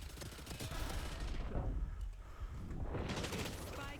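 Rapid gunfire from a Valorant match fills the whole stretch, dense bursts of shots under a steady layer of game noise, with a voice speaking over part of it.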